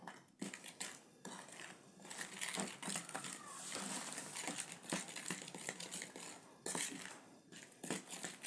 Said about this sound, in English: Mix everything together. You give it a very nice mix.